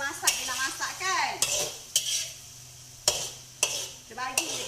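Maggi noodles being stirred and fried in a wok: sharp metal scrapes and clanks of a spatula hit in irregular bursts over a low sizzle, close up, with a faint voice in the background.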